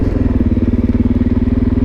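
Motorcycle ripping through an alleyway, a loud, close engine note with a fast, regular pulsing exhaust throb, held steady for a brief burst.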